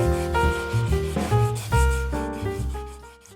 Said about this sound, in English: I can wet sand and hopefully hide any trace of these stamped graphics